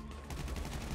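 Rapid gunfire from the video game GTA V during a prison break heist, a dense, steady burst of shots under a low rumbling game soundtrack.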